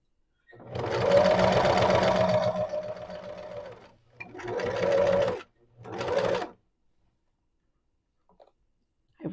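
A sewing machine straight-stitches close to the edge of fabric in three bursts of steady mechanical whirring, a long run followed by two shorter ones, separated by silent pauses.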